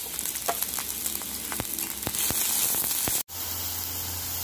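Onion, ginger, green chili and garlic stirred in hot coconut oil for meen ada, a dense close hiss of frying with scattered spatula scrapes, cutting off abruptly before a quieter steady hum.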